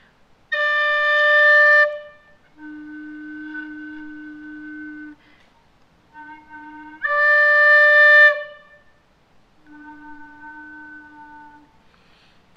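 Tin whistle played with every finger hole and the end hole covered, forcing a very low undertone; two bright high notes alternate with softer low hollow tones, each held a second or two, close and solo.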